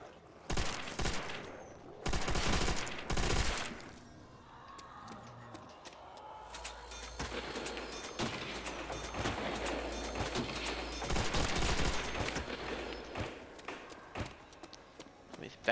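Bursts of machine gun fire from a deployable MG42 in Call of Duty: World at War ring out in short rapid volleys early, followed by fainter scattered gunfire, mechanical clatter and game effects, with a voice talking throughout.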